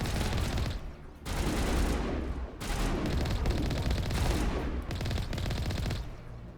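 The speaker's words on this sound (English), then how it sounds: "He's just straight up shooting me in the poor Mako" Gunfire in the video game Mass Effect hammering the Mako vehicle, dense rapid bursts of shots in three long volleys separated by brief gaps, loud and close with no talk over them.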